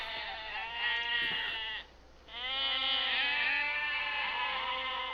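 A sheep bleats loudly and close, in two long, wavering calls separated by a brief pause, with no other sounds.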